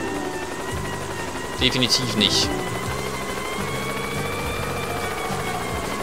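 A cartoonish video-game helicopter in Yooka-Laylee whirs steadily with a droning rotor buzz throughout, while someone talks briefly over it and a few bright chiming game effects ring out midway.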